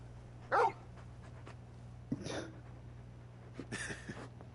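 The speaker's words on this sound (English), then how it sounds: "You're just a big puppy, aren't you?" Torgal, a large dog in the video game Final Fantasy 16, gives a short sharp bark, then soft whimpers and whines against a low steady hum, fairly close.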